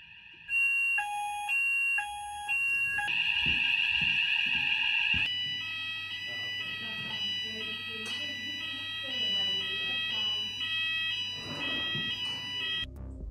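A loud electronic fire alarm, a false alarm, beeps in a steady repeating pattern, continuing throughout while indistinct voices and movement sound underneath.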